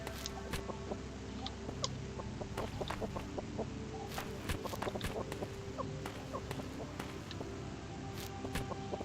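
A chicken clucks in the game Signs of Life, soft short calls scattered over a steady, busy background of ambient noise, with no talking.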